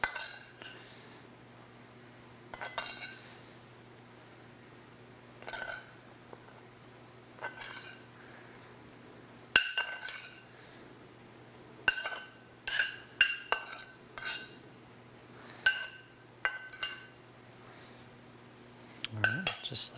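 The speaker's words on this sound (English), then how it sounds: "Just going to kind of spoon them on." A metal spoon clinks and scrapes against a plate while scooping mushrooms onto mushroom risotto, a series of light, close taps and clinks spaced a few seconds apart over a low steady hum, with no talking.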